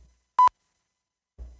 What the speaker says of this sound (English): I'm gonna beep in advance for that.